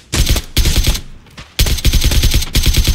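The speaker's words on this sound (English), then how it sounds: "Stand up and shoot him, Mike." Loud bursts of automatic gunfire from a battle royale video game, firing in rapid rattling volleys with a brief lull before a long sustained stream of shots.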